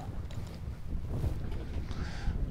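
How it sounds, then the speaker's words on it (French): Steady wind blowing across a lake around a fishing boat near Chapais-Chibougamau, a continuous low rumble and buffeting on the microphone with faint water movement, no talking. "ça fait 3 jours qu'on a ce vent-là"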